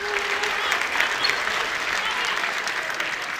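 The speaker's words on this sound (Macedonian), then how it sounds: "Ве молам аплаузи за Кловнот и неговата весела дружина." An audience at a children's song festival applauds a clown and his troupe, a continuous, loud roll of many hands clapping with a faint crowd murmur beneath, sustained throughout.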